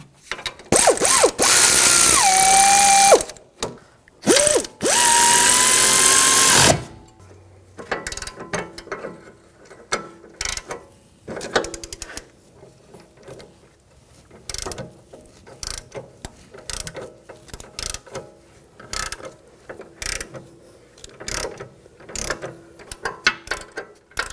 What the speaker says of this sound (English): You want to tighten those down.